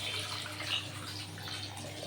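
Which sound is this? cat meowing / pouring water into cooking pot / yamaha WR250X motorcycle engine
pouring water into cooking pot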